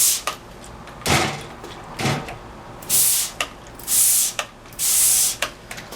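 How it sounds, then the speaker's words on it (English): Several short hissing sprays of salt water from a trigger bottle, about five bursts in a loose rhythm, each preceded by a soft click, close by. "I'm just going to spray these."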